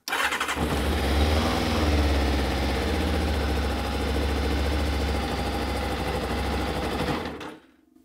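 A Kawasaki ZZR 600, a 1990s sports motorcycle, idles roughly and steadily up close for about seven seconds before the engine cuts out at the end. No one speaks.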